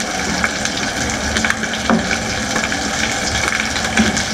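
Continuous sizzling, gushing liquid noise of used cooking oil being poured and strained, steady and loud throughout with a few small clinks.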